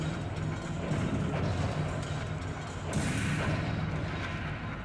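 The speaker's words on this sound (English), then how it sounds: "A train moving is one of the most fucked up sounds I've ever heard in my entire life." A moving train rumbles loudly and continuously, a dense low roar of steel wheels and cars close by with a shift in texture partway through, and no voices.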